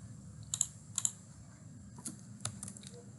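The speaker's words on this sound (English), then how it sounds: "and I will type" Computer keyboard keys are tapped in sparse, separate clicks, a few close crisp strokes spread across the moment over a quiet low room hum, with no voice.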